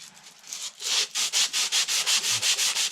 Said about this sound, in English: I'm gonna run some emery cloth around where the wheel seal will fit on, so that way it's nice and smooth